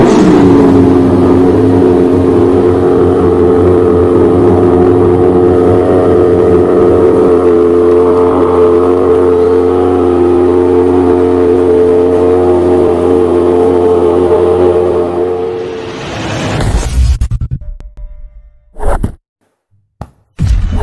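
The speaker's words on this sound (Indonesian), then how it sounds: "kita akan tes nyalakan McLaren ya guys" A McLaren 720S supercar engine running at a steady, loud, droning idle for about fifteen seconds before the sound cuts out abruptly, leaving a few short thumps and near silence.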